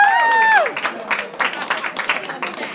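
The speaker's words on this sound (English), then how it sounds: "You're clapping too early" An audience claps at a comedy club during a tattoo-themed set, a short burst of scattered, uneven applause that follows a sustained tone from a voice or instrument.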